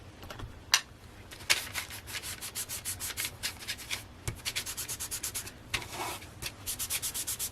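Close, quiet rubbing and scraping over a small paper piece as it is distressed to look antique for a junk journal. The strokes come in steady, quick bursts, with a few sharper scuffs among them.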